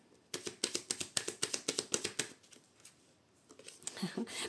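A deck of tarot cards is cut and riffled, giving a quick run of crisp, rhythmic card flicks up close that pause and then return more softly at the end.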